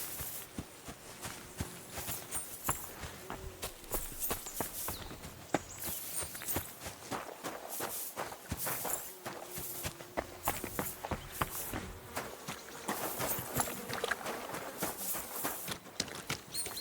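Horse hooves clip-clop steadily at a walking pace in the video game Kingdom Come: Deliverance II, a rhythmic clatter of footfalls continuing throughout.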